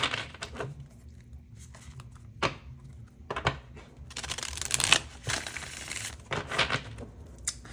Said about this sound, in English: while I shuffle the deck